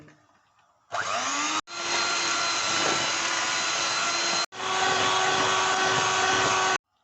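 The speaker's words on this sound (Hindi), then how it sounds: "4 अंडे मैंने तोड़ लिए हैं। इनको मैं अच्छी तरह बीट कर लूँगी।" Four eggs whipped with an electric hand beater: a loud, steady motor whine runs for several seconds, cuts out briefly, then resumes and continues before stopping.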